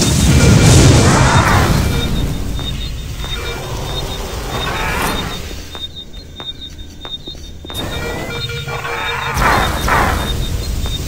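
Grenade blasts in the shooter game Doom 3, heavy booming bursts with a loud one at the start and others later, set against steady mechanical game ambience.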